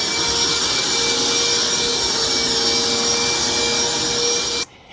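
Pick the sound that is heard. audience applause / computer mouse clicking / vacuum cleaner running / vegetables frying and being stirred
vacuum cleaner running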